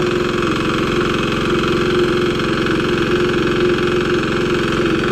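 Engine driving a water pump runs loud and close, with a steady, rapid knocking chug and a constant vibrating drone that never changes for several seconds, alone with no voices.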